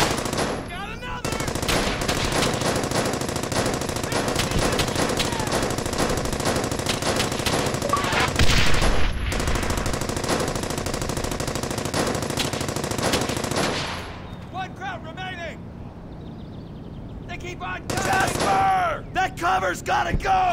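Sustained bursts of automatic gunfire fill a war video game, loud and dense for long stretches, with brief pauses and sharp isolated shots near the end; shouted voices appear faintly amid the shooting.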